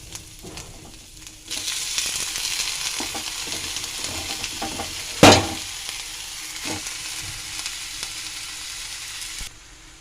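Water lily stems drop into hot oil in a pan and set off a strong, close sizzle that holds steady, with one sharp burst midway and a few soft stirring knocks.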